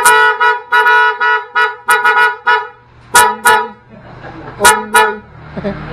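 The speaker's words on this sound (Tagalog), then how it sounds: "Busina to sir. Busina na." A motorcycle horn on a Yamaha Aerox or Nmax scooter honks repeatedly in short and longer blasts, with a bright, buzzy tone. An engine idles underneath, and there are brief bursts of noise between honks.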